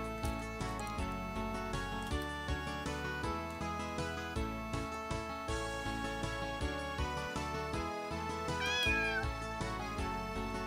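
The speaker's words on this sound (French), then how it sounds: "Un chat? Un chaton?" A cat meows in the video game The Gray Garden, a short high call rising over steady looping background music near the end, with no talk.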